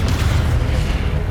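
A Descendo spell cast in the Hogwarts Legacy video game, a heavy, rumbling low boom that holds steady and loud throughout.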